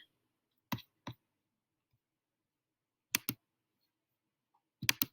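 A computer mouse clicks crisply up close while someone navigates Google Classroom, sounding in quick double clicks separated by silent pauses, with a final cluster of clicks at the end.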